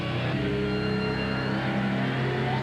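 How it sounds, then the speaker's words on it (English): A loud, sustained engine roar from the Miller Genuine Draft Rusty Wallace stock car, with a steady droning pitch like a car revving on a track, continuous with no talking. "The Miller Genuine Draft Rusty Wallace stock car."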